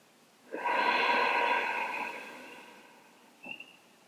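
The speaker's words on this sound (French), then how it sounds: "Faites une grande inspire, une grande expire." A long, deep breath is audible during a Hatha yoga session, a breathy exhale that starts loud and close and slowly fades. A brief sharp intake follows near the end.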